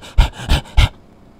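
A person imitates a dog panting with their voice: three sharp, breathy huffs in quick rhythm, close to the microphone, then quiet.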